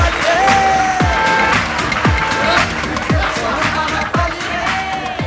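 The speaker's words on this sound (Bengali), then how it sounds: "জোরে হাততালি" A studio audience at a Bengali family game show applauds loudly and continuously, a dense wash of clapping and cheering with bright electronic music tones and repeated deep booming hits underneath.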